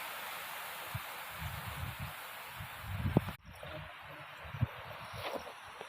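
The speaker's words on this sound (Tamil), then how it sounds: "காற்று அடிச்சிட்டே இருக்குது" Broadband rushing noise of strong wind buffeting trees at a rural home with goats and cattle, with low thumps and gusts, loud and steady, with a brief cutout midway.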